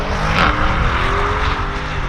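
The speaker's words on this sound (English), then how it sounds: "B8 Gran Coupe with launch control." A 2022 BMW Alpina B8 Gran Coupe's 4.4-liter twin-turbo V8 roars hard under launch-control acceleration, a loud, steady engine drone with rising tone and rushing wind, heard from inside the car.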